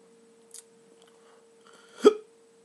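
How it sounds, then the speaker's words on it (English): A person gets the hiccups while tasting a hot Orange-Red Savina chili pepper, with a faint catch in the breath and then one sharp, close hiccup, otherwise quiet. "With getting the hiccups."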